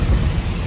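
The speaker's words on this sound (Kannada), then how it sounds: "ಸಿಕ್ಕಾಪಟ್ಟೆ ಮಳೆ ಬರ್ತೈತೆ ನೋಡಿ" Heavy rain pours down with a deep, loud rumble of thunder in a short, dense burst, and no voices can be heard.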